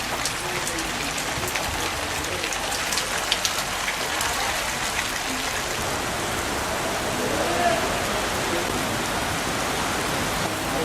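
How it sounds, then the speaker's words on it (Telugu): Moderate rain from cyclone Vardah falls in Kadapa city as a steady, even patter that goes on without a break, with faint background sounds underneath. "కడప నగరంలో మోస్తరు వాన పడింది."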